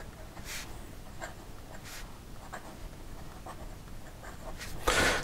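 A broad stainless steel fountain pen nib writes on paper, making faint, close scratchy strokes at irregular intervals over a steady low hum, ending with a louder rustle.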